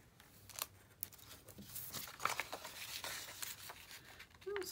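Scissors fussy cutting around clear stamps, a run of close, quiet snips and crinkly rustles of the plastic sheet with no talking.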